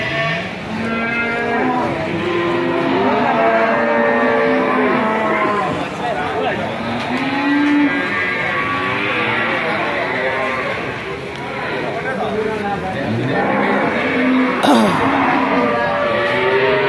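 Young cattle at a busy livestock market moo repeatedly, several overlapping low calls close by and farther off, over constant crowd chatter and nearby talking.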